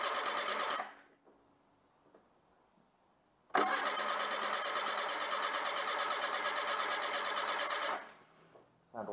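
Starter motor of a Renault 11 GTL with its crankshaft position sensor missing cranks in two long rasping bursts without catching, a pause of near silence between them and a third burst beginning at the end.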